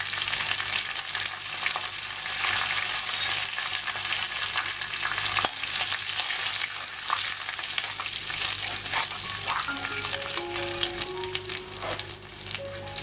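Curry leaves and dried red chillies fry in hot oil with cumin seeds, giving a steady, dense crackling sizzle with occasional stirring throughout.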